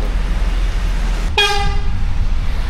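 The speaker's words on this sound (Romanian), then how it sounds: "Așa, mă, claxonează." A car horn gives one short, loud honk amid steady traffic rumble in a city street, cutting in abruptly then stopping.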